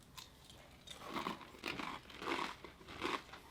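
Spicy Japanese kakinotane rice crackers chewed up close: a series of about six soft crunching bites in an irregular rhythm, faint and intimate, with no talking.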